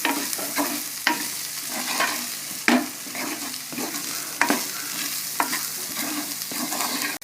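Boiled beef pieces for cutlets are stirred and mixed in a hot pan, giving a steady sizzle with repeated scraping strokes and knocks of the spoon, close and fairly loud, with no talking.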